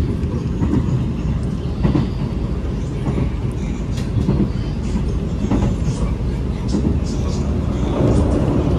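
KAI Taksaka passenger train rolling along the rails on the Jakarta–Jogja line as it nears the Notok tunnel, a loud continuous rumble with rhythmic clickety-clack, heard from inside the carriage with voices talking over it.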